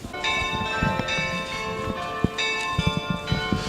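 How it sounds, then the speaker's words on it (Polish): A church bell rings with sustained, overlapping tones and clear strikes, layered harmonics filling the air over low background rumble, heard alone without talk. "Komu bije dzwon? Ten dzwon bije dla ziemi."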